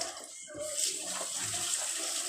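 Hot tap water running into a kitchen sink for washing dishes, a steady hissing gush that stays even throughout, fairly quiet and close, with a faint voice underneath.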